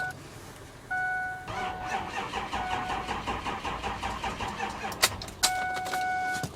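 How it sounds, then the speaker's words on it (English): A Ford 6.0 Powerstroke diesel truck engine cranks over and over without catching: a steady, rhythmic starter churn for several seconds, close and loud, with a chime tone sounding at moments and no talking. "So I'm actually going to try and start it."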